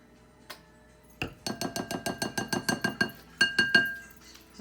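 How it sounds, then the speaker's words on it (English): A wire whisk beats a crab cake mixture with sriracha in a bowl, giving a rapid run of about a dozen sharp, evenly spaced metallic clinks against the bowl, briefly pausing before a few louder strokes, with no talking. "I'm gonna whisk this together."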